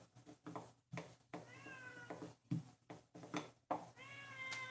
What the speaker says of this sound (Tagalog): Yung pusa ko naman, gustong-gusto nang kumain.